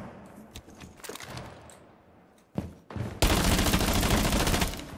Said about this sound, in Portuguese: Isso aí é tiro do Blackbeard.